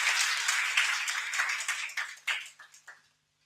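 An audience claps loudly for two exam toppers at a Chhattisgarh civil-service toppers' talk. The dense, steady applause thins into a few scattered claps and then stops.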